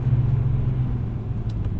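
Steady low engine rumble and road noise from a BMW M3 cruising, heard from the passenger seat, a constant drone with no voices.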